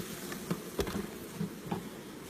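Honey bees buzzing around an open hive being smoked, a steady low drone with a few brief louder passes close by, fairly faint overall.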